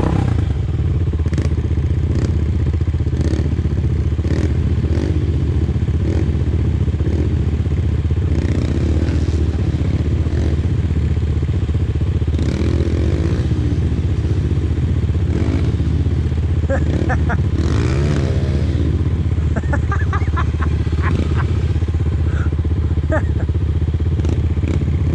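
An off-road vehicle at an ORV park revs its engine with tires spinning in the dirt, a loud, continuous low roar with clattering and scraping. Voices talk over it throughout.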